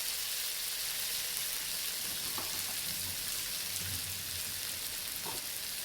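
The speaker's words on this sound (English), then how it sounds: "first thing to go is the onions and the tomatoes at the same time" Onions and tomatoes frying in oil, a steady bright hiss of sizzling with soft scattered pops and faint stirring knocks underneath, quiet and continuous with no voices.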